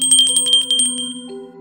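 A small desk bell at a bookstore counter rings in a quick series of bright metallic dings that gradually fade, with a steady low hum beneath.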